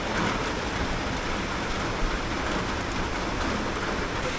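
Heavy rain pours steadily during Cyclone Remal, a dense, continuous roar of downpour and storm wind at night, loud and unbroken with no voices.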